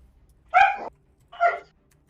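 Dog giving two distinct barks about a second apart, close and clear against an otherwise quiet background.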